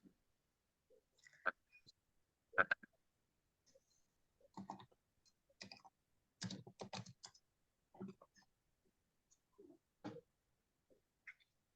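Loud typing on a computer keyboard, heard as scattered bursts of sharp clicks with short pauses between them. The keystrokes come close and fairly quiet overall, with no talk over them.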